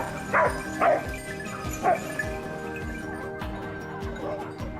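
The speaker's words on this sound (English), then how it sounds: "The hound's barking erupted again" A hound barks a few times in quick bursts on a potato farm, then gives softer yips and whimpers against a low background hum.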